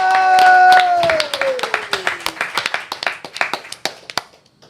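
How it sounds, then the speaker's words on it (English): A live pub podcast audience at its first-ever live show applauds a guest, opening with a long, falling voiced whoop over the crowd before scattered, thinning hand claps that taper off into quiet. "Round of applause for Stefan!"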